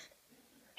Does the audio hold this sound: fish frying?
no